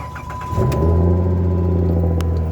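A car engine with a newly fitted starter, intake, spark plugs and coil packs cranks briefly, then catches and settles into a steady, loud idle rumble close by.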